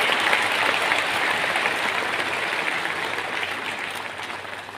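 Steady, dense clapping from an audience at a Railway Protection Force medal investiture ceremony in Vigyan Bhawan, holding at full strength before easing slightly toward the end, with no talk over it.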